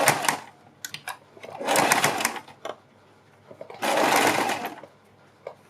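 Sewing machine stitching strips onto a kurti neck design, two sustained runs of whirring stitching broken by short clicks and pauses, close and moderately loud.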